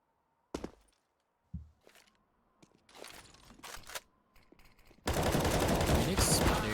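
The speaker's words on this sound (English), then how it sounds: "Run and gun with the deagle, precise as ever." Desert Eagle pistol shots in Counter-Strike: Global Offensive, several sharp separate cracks spaced through a quiet stretch, then a dense burst of loud rapid gunfire at the end.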